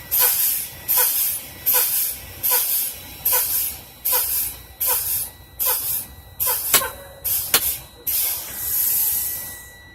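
Air brakes on a truck hiss in repeated sharp bursts during a pump-down test, about a dozen loud, evenly spaced releases of air, each a short spray-like blast with brief pauses between.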